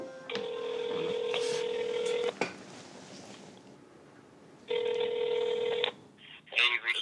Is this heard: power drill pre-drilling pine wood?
no